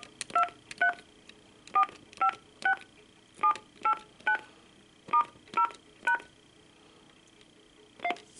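Button presses on a vintage 1990 AT&T 5500 cordless telephone sound out as crisp, close dialing tones, about a dozen short beeps in quick clusters with brief pauses between them, and no talking.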